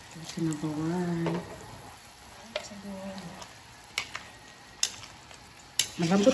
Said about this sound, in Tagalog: kumukulo na ang ating sinabawan